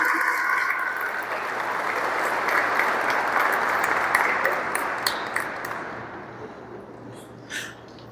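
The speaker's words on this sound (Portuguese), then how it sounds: "Vamos aplaudir a palavra do Senhor." A church congregation at a charismatic prayer seminar applauds after a Gospel reading. Steady, dense clapping fills the room and slowly tapers off toward the end, with a few faint tones on top.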